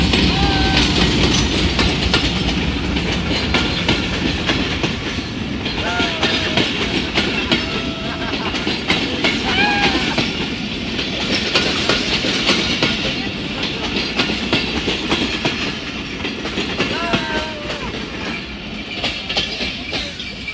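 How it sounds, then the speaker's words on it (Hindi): A train passes close by next to a flooded area, with continuous rumbling and rhythmic clickety-clack of wheels on the rails and occasional faint squeals over about twenty seconds. "ये हमारे व्लॉग में ट्रेन भी आ गई है।"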